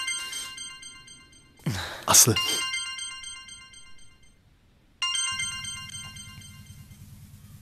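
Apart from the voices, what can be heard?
mobile phone ringtone ringing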